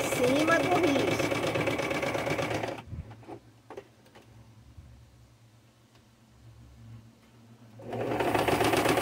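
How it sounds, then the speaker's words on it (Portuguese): A sewing machine runs loud and steady while stitching fabric along a marked line for a rabbit napkin holder, stops for several seconds of near quiet with a few small clicks, then starts up again. "Costura no risco, meninas. Em cima do risco."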